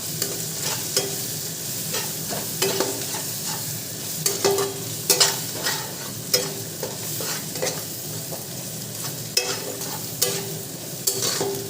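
Spices with cumin powder being sautéed in a pan, a soft steady sizzle broken by repeated stirring scrapes and spoon clicks, close and without talk.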